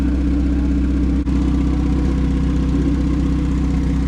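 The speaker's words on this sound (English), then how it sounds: "We're leaving it running so we can bleed the coolant." A boosted Honda Del Sol engine idles loudly and steadily up close, a continuous low rumble with an even throb and no voices.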